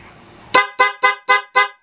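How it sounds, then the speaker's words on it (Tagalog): A PIAA car horn honks five times in quick, evenly spaced short blasts, loud and close, after a brief quiet moment. "So, busina po natin"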